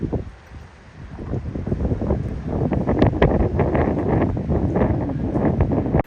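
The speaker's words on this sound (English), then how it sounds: "The wind is really rocking the ship." Wind gusts buffet the Nao Trinidad, a tall replica Spanish flagship of Magellan, near St. Augustine, with loud, close microphone rumble and broadband rushing that swells and eases throughout.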